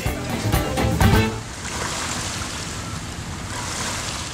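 Waves lapping in a bay in China, a steady broadband wash with a louder surging stretch at the start that settles into a softer continuous rush, close and alone with no voices.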